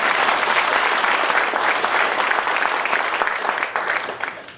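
A large audience at a national technology innovation awards ceremony breaks into sustained applause, thick and continuous for several seconds before starting to thin and fade at the end.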